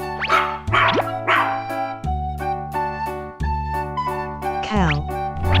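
A cartoon dog barks amid the bouncy music of a children's farm-animal nursery rhyme, with short yips sitting over a steady backing track.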